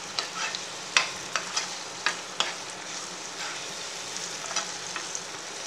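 Chilli chapathi pieces stirred and sautéed in a hot pan, a steady sizzle broken by repeated sharp scrapes and clinks of the spoon, close and clear with no voices.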